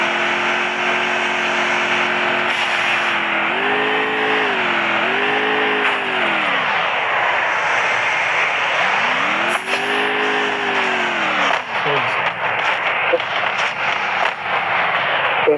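A motorbike engine revs hard several times, its pitch sweeping up and down in loud rising and falling bursts, with faint voices in the background.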